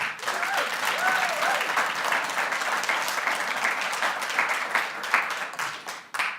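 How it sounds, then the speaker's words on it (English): Sustained applause from a studio audience for a panel at a product preview event, a full, even roar of many clapping hands lasting the whole stretch, with faint voices mixed in. "Can we give our panel another round of applause?"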